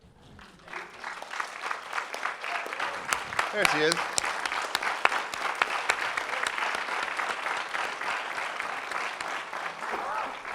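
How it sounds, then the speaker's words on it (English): Theater audience at a film festival event applauding an actress who stands up, clapping building from quiet to a sustained, fairly distant wash of applause with a few sharp individual claps, while someone speaks briefly over it. "stand up and take some applause"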